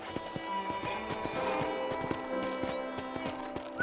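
Horse hooves clip-clop at a steady trot in the Red Dead Redemption video game, with regular close hoofbeats over a low ranch ambience.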